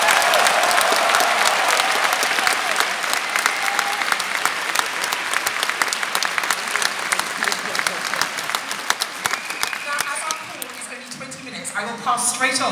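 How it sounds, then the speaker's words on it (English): A large audience of about six thousand people cheers and applauds loudly and continuously for the International Space Station, a dense, sustained roar of clapping that thins slightly near the end. "So I think a big cheer from the audience again for the International Space Station."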